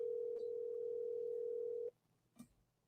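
A steady phone ringback tone drones for about two seconds while a call goes to voicemail, then cuts off abruptly, leaving a faint click.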